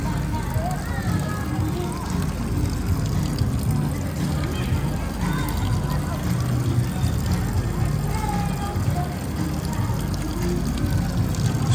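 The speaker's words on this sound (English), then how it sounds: "And then we've got a water tap here. Yep, that works." An outdoor public water tap in a city-centre green space runs steadily, a continuous splashing rush close by that fills the scene while someone speaks over it.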